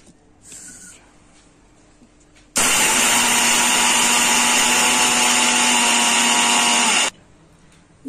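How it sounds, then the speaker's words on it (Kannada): A kitchen mixer grinder runs loudly and steadily for about four and a half seconds, grinding roasted gram chutney powder with cumin, curry leaves, garlic and jaggery, then stops abruptly; a brief faint clatter comes before it starts. "ಈಗ ಮಿಕ್ಸಿ ಹಾಕೊಂತೀನಿ."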